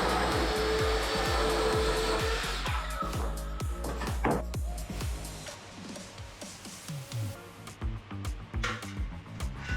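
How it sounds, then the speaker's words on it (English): A round circular saw cuts styrofoam insulation boards during a Tokyo house renovation, its loud whining motor roaring steadily at first, then tapering into intermittent bursts and scraping with stretches of lower noise. "So we cut the styrofoam with this marunoko, this round saw"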